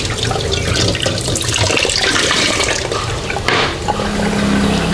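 Lotus leaves being rinsed under a running tap for lo mai kai, steamed chicken rice wrapped in lotus leaf: a steady, loud gush of water splashing continuously, with a brief shift in the flow partway through and no talking.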